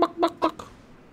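Chicken in the DayZ survival game clucking in a quick run of three or four sharp, close calls that fade out, with no talk over them.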